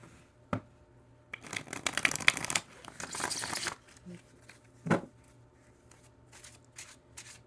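Tarot cards being shuffled by hand in bursts of crisp riffling and crinkling, with a sharp tap near the start, a dense flurry in the middle and a few lighter flicks toward the end, close by in a quiet room.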